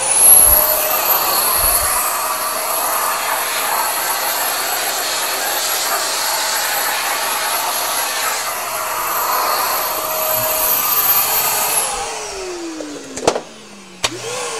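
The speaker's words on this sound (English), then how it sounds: "I'm going to vacuum that off real quickly" Vacuum cleaner sucking loose solder bits off a PiDP-11 computer kit, a loud, steady broadband roar for about twelve seconds that then switches off and winds down, followed by a few clunks.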